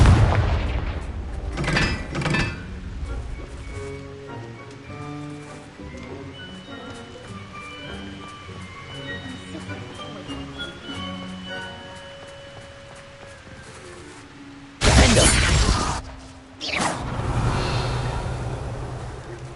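Confringo spell explosion in Hogwarts Legacy, with booming blasts at the start and two heavy bursts near the end over a background game music score, loud and close.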